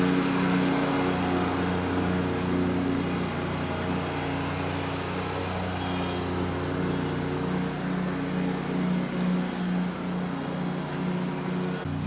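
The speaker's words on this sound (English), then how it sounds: "Tony, we're trying to get a good video of this thing mowing" Continuous, steady motor hum of a small Wright autonomous robotic lawn mower running nearby, a droning whir with a faint engine whine, no speech.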